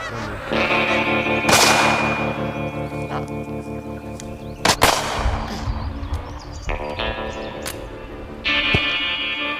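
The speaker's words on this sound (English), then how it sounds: "It's goose season" Geese honk during goose season in Kakadu, loud harsh calls overlapping in bursts, with several sharp cracking bangs like gunshots among them.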